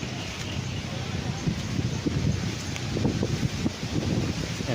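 Strong wind roars across an open, flat farm lot planted with coconut, lanzones and banana near a river in Liliw, Laguna, buffeting the microphone in a constant, close rumble with gusty surges throughout.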